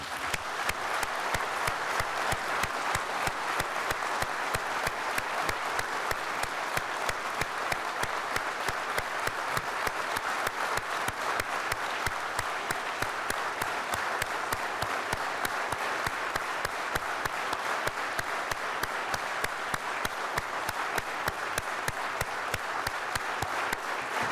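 Audience at the Shevchenko Prize ceremony for Ukrainian talents applauds in steady, dense, sustained applause that fills the hall evenly throughout, with no voices over it.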